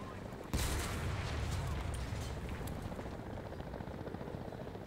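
A video game helicopter's steady rumbling roar runs throughout, mixed with dense gunfire and explosions, loud and continuous with no pause.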